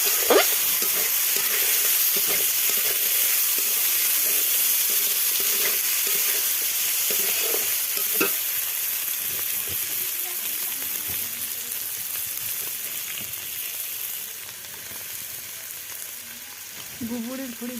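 Taro and dried fish fry in a pan with turmeric and salt, giving a long, even sizzle broken by scraping stirring strokes, and a faint voice is briefly heard near the end.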